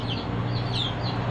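Free-range farmyard chickens fed on paddy rice, roaming loose among trees, give off soft repeated clucks over a steady low background hum, moderately near and continuous.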